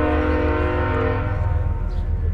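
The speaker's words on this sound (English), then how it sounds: "It's pervasive, the railroad sounds here." Train horn sounding loud and sustained in Livingston, Montana, a long blaring chord that fades out under rumbling railroad noise.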